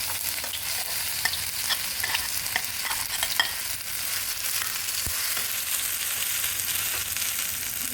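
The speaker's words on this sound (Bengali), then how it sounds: "তেলটা কড়ার মধ্যে দিয়েছি, এবার আমি পুরটা তৈরি করে নেবো কড়াইশুঁটির। হ্যাঁ, এই যে প্রথমে কড়াইশুঁটিটা দিয়ে দিচ্ছি।" Green peas fry in hot oil in a kadai, making a steady close sizzle. Stirring scrapes and clicks of the utensil run through it, and no one speaks.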